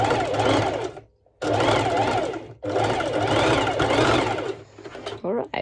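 A sewing machine topstitches around the neckline of a cowl neck top with hoodie in tricky fabric, running in three long loud bursts separated by short pauses, with a final brief stuttering run at the end.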